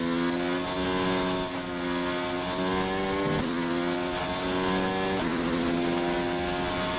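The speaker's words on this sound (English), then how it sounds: "A little bit of a blip on the throttle which lost us about half a tenth there." A Formula 1 car engine from the racing game F1 2019 screams at high revs with a steady harmonic whine, dipping briefly in a couple of quick throttle blips before climbing again, loud and continuous.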